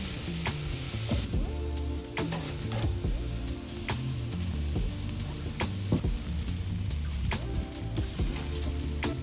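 Steaks searing hot and fast in a pan with a brown sugar marinade, giving a steady close sizzle and frying hiss throughout, with occasional clicks and clatters from cooking over it and no talk.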